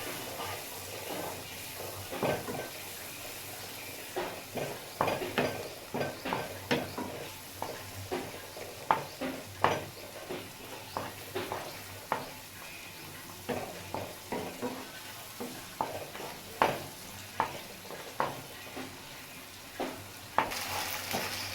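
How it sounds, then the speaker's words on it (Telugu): Wheat flour halwa stirred in a pan with ghee, the spoon scraping in regular repeated strokes over a quiet sizzle, close and fairly faint. "ఇప్పుడు ఈ పిండి అంతా ఉండలు కట్టకుండా మంచిగా కలుపుకోవాలండి."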